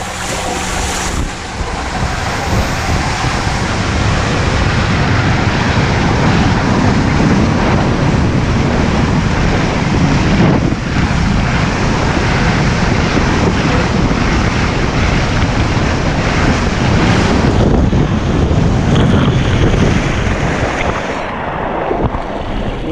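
Loud continuous roaring rush of wind and spraying water while riding down a 135-foot-tall water slide, a dense, unbroken wash of noise lasting over twenty seconds with no talking.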